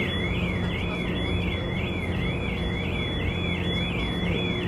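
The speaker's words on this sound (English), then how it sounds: "someone really got to turn off their car alarm" A car alarm sounding on a ferry to the Isle of Skye in Scotland, a steady warbling electronic siren repeating evenly in a rising-falling cycle, fairly faint over constant engine and deck rumble.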